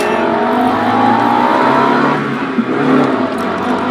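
A Honda Del Sol, a front-wheel-drive car, revs its engine loudly and close by, the engine note rising and sustaining steadily without a break for the whole stretch.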